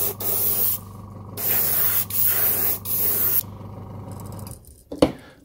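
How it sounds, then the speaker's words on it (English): An airbrush sprays cashmere white paint onto a fishing lure in a series of steady hissing bursts with short pauses, ending with a sharp click and puff of air. "Airbrush is clean. Go back to the cashmere white."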